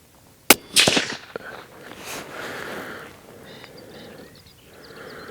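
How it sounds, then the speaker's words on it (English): A rifle fired at a penny washer target during zeroing of a DNT 635R ThermNight thermal scope: one sharp, loud report followed by a brief rattling echo that fades into quiet outdoor ambience. "So I'm going to aim and shoot at that middle of that penny washer."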